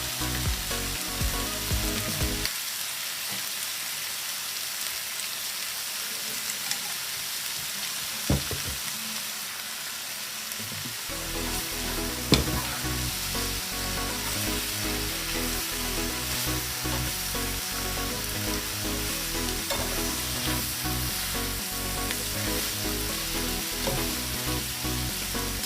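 Yakisoba noodles with oyster sauce stir-fry in a hot pan, a loud, steady sizzle that drops briefly early on and then roars continuously with stirring scrapes throughout.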